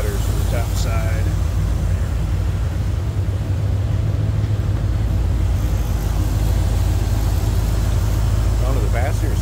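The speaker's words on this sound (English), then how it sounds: "Smooth running car. Sounds good." A 1975 Chevrolet Corvette convertible's 350 V8, fitted with an Edelbrock intake manifold and headers, idles smoothly and steadily at close range, a constant low rumble with someone talking over it.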